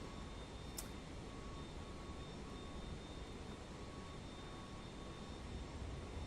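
An FSLabs A321neo auxiliary power unit in a flight simulator drones as a steady, even roar with a thin sustained whine, continuous and unchanging throughout with no voices.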